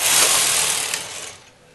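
A knitting machine carriage is pushed across a row of white yarn, giving a loud, continuous mechanical rasp and whir that fades as the pass finishes, with no voices.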